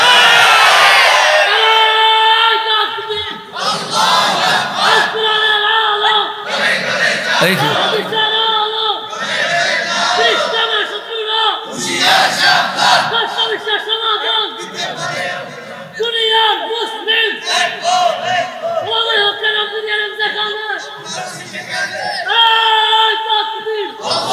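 A large crowd at a religious sermon gathering shouts the Nara-e-Takbir chant in repeated loud call-and-response bursts, voices rising and falling in waves with brief pauses between rounds.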